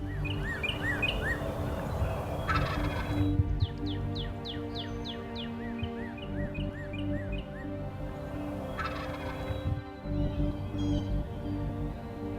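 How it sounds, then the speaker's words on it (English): A wild turkey gobbles in the distance while smaller birds chirp and trill in a steady outdoor chorus, with no voices. "Finally, they hear a gobble."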